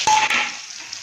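Onions fry in a pan, giving a brief, close sizzling hiss that starts loud and fades over about a second, with a couple of small clinks.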